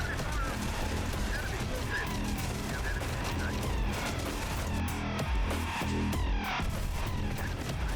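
Sustained battlefield gunfire in Terminator: Dark Fate Defiance, a constant wall of shots and explosions with vehicle rumble, and a voice speaking over the din.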